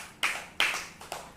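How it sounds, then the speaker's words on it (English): A small group of students claps for a classmate in a classroom, making three short bursts of applause, close and moderately loud, with no talking over them. "Clap for Ansika"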